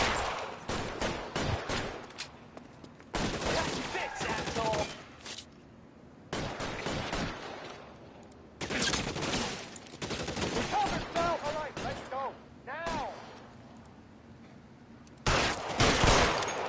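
Gunfire in the video game L.A. Noire, bursts of rapid shots and fusillades in a chaotic firefight, interspersed with shouting voices and brief quieter gaps.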